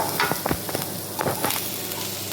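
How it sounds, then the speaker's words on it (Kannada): Onions frying in a pan as curry leaves and green chillies go in for a mushroom pepper dry, a steady close sizzle broken by a few sharp crackles and stirring scrapes. "ಈರುಳ್ಳಿ ಕಂದು ಬಣ್ಣಕ್ಕೆ ಬರುವಾಗ ನಾವು ಕರಿಬೇವು ಸೊಪ್ಪು ಮತ್ತು ಕಾಯಿ ಮೆಣಸು ಹಾಕುತ್ತಿದ್ದೇನೆ"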